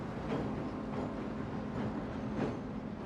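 Train rolling along a 975-foot wooden trestle, a low, steady rumble with faint rhythmic clatter from the wheels, heard at a moderate distance with no voices.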